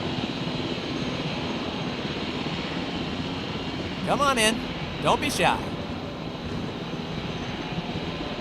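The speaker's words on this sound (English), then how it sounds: "once that helicopter goes away, everything should be fine" A helicopter in the video game Jurassic World Evolution drones steadily overhead throughout, with a voice speaking over it briefly.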